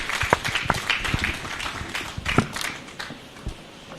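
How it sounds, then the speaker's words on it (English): A keynote address audience claps at moderate level, scattered sharp hand claps over a thinning wash of applause that tapers off. "Please, a round of applause as he commences his keynote address."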